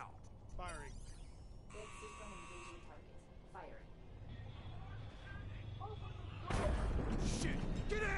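In the Call of Duty: Black Ops 3 campaign, weapon fire builds into a loud, heavy burst near the end, over buzzing game effects and frequent voices talking throughout.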